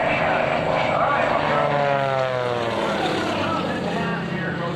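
A propeller airplane flies aerobatics at the 2003 NAS/JRB Willow Grove Air Fest, its engine a loud, continuous drone that shifts in pitch as it passes and maneuvers, close and dominant throughout.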